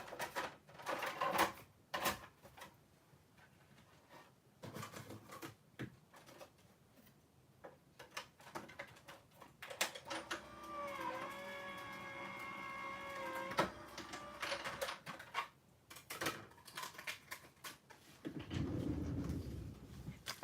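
A die-cutting and embossing machine feeds a card through its plates, giving off a steady mechanical hum with tonal grinding for several seconds. Clicks, taps and shuffling handling noises come before and after it.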